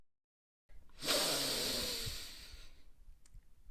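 A storyteller imitates one huge, long nasal sniff of super strong cheese: a single loud, breathy inhale that swells and fades over about two seconds, close and alone.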